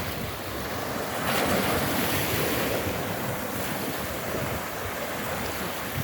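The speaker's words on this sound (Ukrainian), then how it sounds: "спокійне море." Gentle, calm sea waves washing in on the beach at Prymorske, a soft, continuous hiss, with a light swell of surf and some wind buffeting the microphone.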